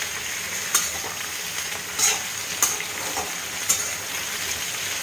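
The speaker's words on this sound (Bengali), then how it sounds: "পেঁয়াজ দিয়ে আমি আবার এটাকে কিছুক্ষণ ভাজব যাতে পেঁয়াজটা আলু আর কাঁকড়ের সাথে ভাজা হয়ে যায়" Onion frying in a pan with potato and teasel gourd gives a steady close sizzle, broken every second or so by the scrape of a spatula stirring the vegetables.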